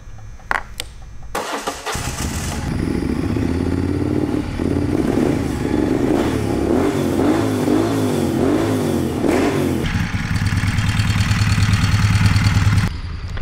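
A Moto Guzzi Griso street fighter motorcycle cranks and fires up, then its engine revs up and down in several rising blips close by before settling into a loud, steady idle.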